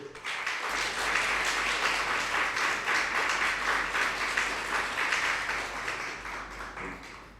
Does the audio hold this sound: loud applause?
yes